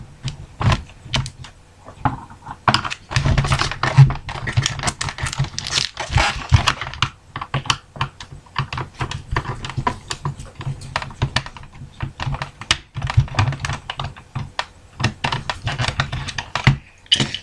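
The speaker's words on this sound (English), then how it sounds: "I'm going to go ahead and screw the 2 out in the stock" Small screws being backed out of the plastic stock of a Nerf Raider blaster, heard as a close, busy run of light plastic clicks, rattles and handling noises over about seventeen seconds.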